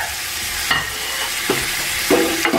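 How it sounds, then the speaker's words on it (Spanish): Garlic and seasonings sautéing in a pan, a loud, bright close sizzle with three short scraping stirs of a utensil spaced across it. "y ahora a sofreír esto bien, bien, bien."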